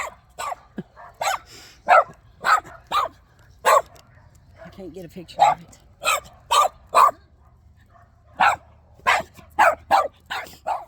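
A dog barks repeatedly in short, loud bursts, some clustered in quick pairs and triples, while people talk nearby over the barking.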